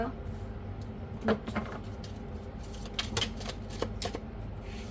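Tarot cards are shuffled close by in a series of soft riffling and flicking bursts with papery slaps, spread irregularly across the span.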